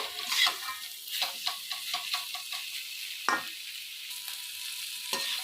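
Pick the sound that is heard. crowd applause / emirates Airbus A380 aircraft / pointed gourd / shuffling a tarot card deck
pointed gourd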